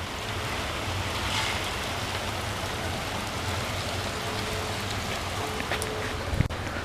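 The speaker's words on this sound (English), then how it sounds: "Hey, look, it really does rain in the desert." Rain falls in the desert as a steady, even hiss of drops on surfaces, close and continuous, with one sharp knock near the end and no talking.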